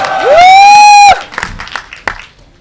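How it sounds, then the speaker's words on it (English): Audience at a Mumbai film trailer launch event, a loud whistle followed by scattered claps, cheers and whoops from the crowd. "The loudest round of applause."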